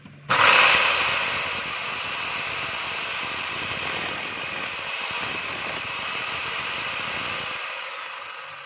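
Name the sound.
DeWalt D25899 10 kg demolition jack hammer running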